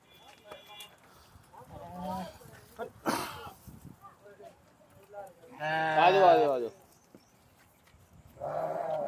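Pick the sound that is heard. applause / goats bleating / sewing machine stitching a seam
goats bleating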